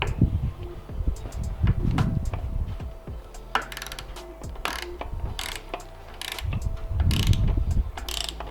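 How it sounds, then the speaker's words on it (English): A torque wrench ratcheting as it tightens the front handlebar bolts on an Indian Springfield Dark Horse motorcycle, clicking in bursts of quick pawl strokes with short pauses, close and clear in a quiet workshop. "we're torquing the front 2 bolts on the bars to 18 foot-pounds."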